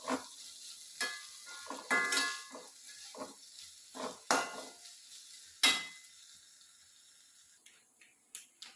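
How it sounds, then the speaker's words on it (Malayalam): Papadums fry in hot oil in a home kitchen, bursts of crackling sizzle rising and fading one after another, with a few utensil clinks and stirring sounds nearby. "ഇനി പപ്പടവും കൂടെ കാച്ചണം"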